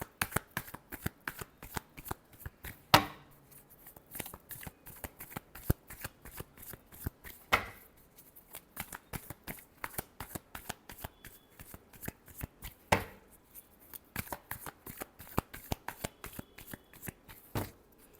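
A deck of cards is shuffled repeatedly during a tarot reading, giving rapid crisp riffling clicks in a steady stream, with louder slaps every few seconds as the deck is squared, close and without talk.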